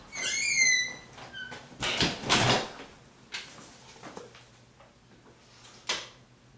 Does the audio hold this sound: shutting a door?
yes